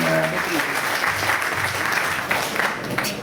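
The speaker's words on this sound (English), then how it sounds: "Another round of applause for Ibrahim." Loud, dense applause from an audience fills a forum hall in Kuala Lumpur. It keeps up at a constant level with a low murmur of voices beneath.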